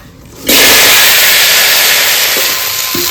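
Gaj potatoes dropped into hot oil in a home kitchen pan, setting off a sudden loud, steady sizzle that starts abruptly and holds strong, close and alone, with a few faint clinks near the end.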